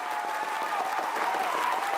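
Steady applause from a concert audience for the Strawberry singer, a dense continuous patter of many hands clapping at an even level throughout, with no voices above it.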